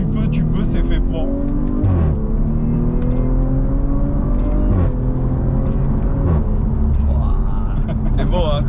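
A loud Audi RS4 ABT-R revs hard through rising engine sweeps that break off at each gear change, heard from close by with a steady roar throughout.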